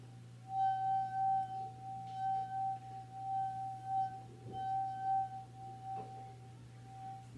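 A wet fingertip rubbed around a glass rim like a glass harp gives a steady sustained ringing tone with faint swells, holding over a low constant hum with no talking.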